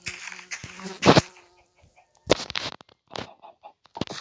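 Short squawking, clucking chicken calls from Minecraft in irregular bursts, with an electronic, game-like tone and quiet gaps between them.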